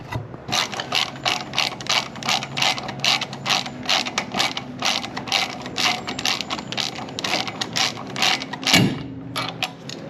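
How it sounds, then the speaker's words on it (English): Rapid ratchet clicks from loosening 15 mm shock bolts on a 2024 Chevy Colorado ZR2 during a leveling kit install, loud and close in quick repeated bursts with a brief clunk near the end. "remove the shock bolts, which is under here. They're these 2. They are a 15 millimeter."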